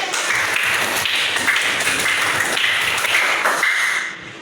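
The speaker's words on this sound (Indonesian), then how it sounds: "tepuk tangan anak-anak" Children clap together in a classroom, producing a dense, loud, even patter of hands that runs steadily and then stops abruptly.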